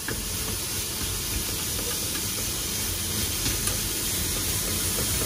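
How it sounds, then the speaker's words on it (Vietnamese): Onions and seasoning sizzling with olive oil in a non-stick pan over a high flame, a steady broadband hiss that runs unbroken and close throughout. "Đây là cái gia vị đầu tiên mình phải xào để cho nó thơm."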